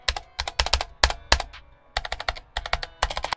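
Rapid keystrokes on an Ajazz AKL680 low-profile 65% mechanical keyboard, crisp close clacks in quick bursts with a brief pause mid-way, no voices.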